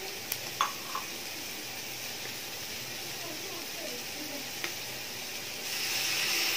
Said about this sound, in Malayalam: സോയ സോസ് ചേർക്കാം.